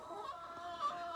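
Soft clucking and murmuring from a small group of chickens, close and continuous, with no voices.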